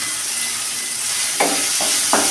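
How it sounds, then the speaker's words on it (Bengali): Garlic paste frying in a pan for a Bengali shol fish kalia, a steady broad sizzle with three short scraping stir strokes near the end. "হালকা ভাজা হয়ে এসছে, এবার আমি রসুনের বাটা দিয়ে দেবো।"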